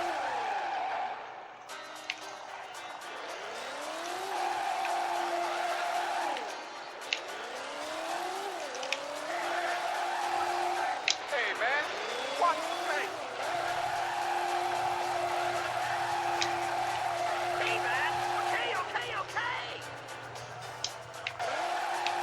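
Cars race and spin out in a PlayStation One racing video game, with revving engines and repeated tire squeals and skids sweeping up and down, under intermittent talk.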